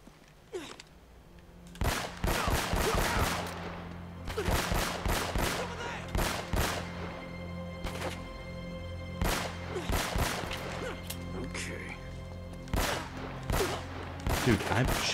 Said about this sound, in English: Dude, I'm shooting at you.